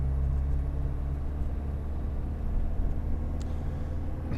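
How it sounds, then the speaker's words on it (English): A Land Rover Defender D110 with a steel ladder frame climbs a hill in third gear, its engine a low, steady rumble heard from inside the cab, continuous and moderately quiet. "Climbing the hill in 3rd gear."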